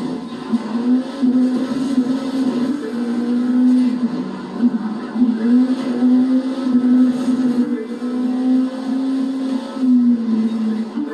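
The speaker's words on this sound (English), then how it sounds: "Gunning their engines in Motor City" Race car engines drone in The Crew 2 video game during the US Speed Tour East event in downtown Detroit, a loud continuous steady roar with slight pitch wobbles as throttles rise and ease, filling the whole stretch.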